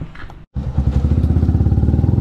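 A warmed-up motorcycle engine idles close by, its steady rapid putter beginning after a brief cut and continuing evenly.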